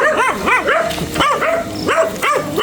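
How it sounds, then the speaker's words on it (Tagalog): Several dogs bark and yip repeatedly at a farm among fields, sharp overlapping barks in quick bursts, close and loud, with a little background noise. "Tignan natin yung daming aso, mga kalaban."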